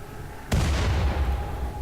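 Artillery fire in the video game RimWorld, a single sudden loud boom that cuts in after a quiet moment and leaves a long, rumbling low decay.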